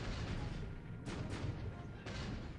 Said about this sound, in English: Depth charges hit. Internal explosion.